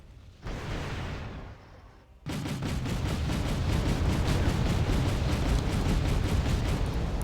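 Tank main guns firing in the Wargame European Escalation strategy game: a loud blast opens, then a continuous heavy roar of explosions and rapid rhythmic cannon fire follows.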